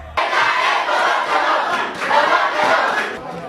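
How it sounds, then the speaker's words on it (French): Spectators at a judo tournament cheer and applaud loudly, a dense continuous roar of shouts and clapping that swells in waves throughout. "Sous les applaudissements nourris et cris d'encouragement"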